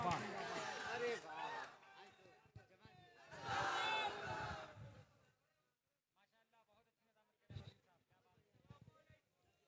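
Audience at an outdoor Islamic devotional poetry gathering (natiya mushaira) in Karimabad, Indara, Mau claps and cheers to welcome a poet, a dense roar of applause in two bursts, then fading to scattered claps.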